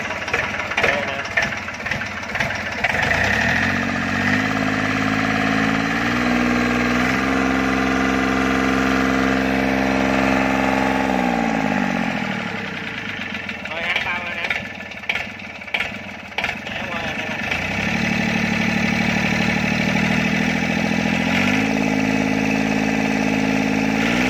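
A Yanmar-style 3T84 diesel engine runs on test, idling with a knocking rattle, revving up and down in long swells, loud and close throughout.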